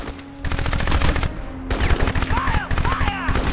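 Automatic gunfire in the video game Crysis comes in loud, rapid bursts with short pauses between them, and in-game voices call out alongside the shooting.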